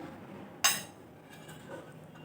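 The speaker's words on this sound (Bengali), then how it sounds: "একটা চামচ দিয়ে আমি একটু ভালো করে চেপে চেপে ঢুকিয়ে দিচ্ছি ব্যাটারটা।" A metal spoon clinks once against a dish while pressing batter into a stuffed pointed gourd for shrimp potol dorma, a single sharp close tap followed by quiet kitchen background.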